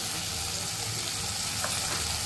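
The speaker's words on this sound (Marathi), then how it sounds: "भाज्या अशाच आपण परतून घ्यायच्या, आधी मसाले नाही टाकायचे." Mixed vegetables, including field beans, being sautéed in a pan for a Bhogi-style mixed vegetable dish, giving a steady, close sizzle with a faint watery hiss throughout and no talking.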